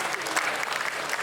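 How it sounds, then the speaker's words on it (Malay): An audience claps steadily through the whole moment at a Malaysian government food security briefing in Perak, a dense, even patter of many hands with no voices over it. "kita beri tepukan untuk Cik Azam."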